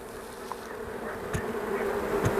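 A crowd of honeybees buzzes at an opened beehive during March hive care, a steady, droning hum heard up close with a few nearer bees passing by, and nobody talking.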